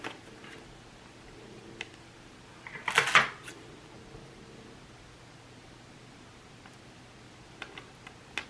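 A blade slicing through a cardboard product header card, a short burst of crisp cutting and scraping lasting about a second, close and fairly quiet against a soft hiss.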